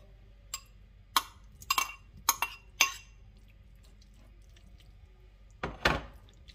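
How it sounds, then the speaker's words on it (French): Potatoes dropped into a thick Tunisian tajine mixture, several soft clinks and wet plops in quick succession, then a heavier splat a few seconds later, close up in a quiet kitchen. "Je vais rajouter mes pommes de terre."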